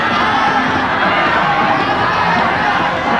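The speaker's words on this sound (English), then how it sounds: "Yeah, they're applauding both of them." A crowd at an FMW Grand Slam wrestling match applauds and cheers both wrestlers after a draw, with children among the fans: loud, continuous clapping and shouting that fills the hall at an even level throughout.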